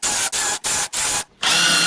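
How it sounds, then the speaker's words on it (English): A power drill fitted with a countersink bit runs in four short even bursts and then a longer one, close and loud, while countersinking a hole during a LiFePO4 battery build, with no talking. "Countersink to make it pretty."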